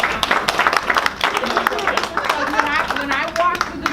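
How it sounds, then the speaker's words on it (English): An audience at a principal's coffee gathering at a school applauds the school librarian. The clapping is scattered and rapid, and voices speak over it. "So we need to applaud her."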